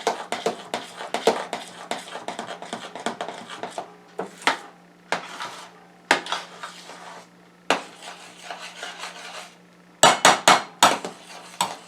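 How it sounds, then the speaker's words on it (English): Thick homemade vanilla pudding is stirred in a pot, with a utensil knocking and scraping against the pot in quick repeated strokes, a short pause, then a final flurry of sharper clinks. "You give it a good stir"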